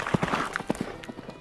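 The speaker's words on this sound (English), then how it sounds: "I hear horses' hooves on the rocks" Horse's hooves clopping on rocky ground as someone rides up a mountain path, a quick uneven run of hollow knocks at moderate distance, fading out toward the end.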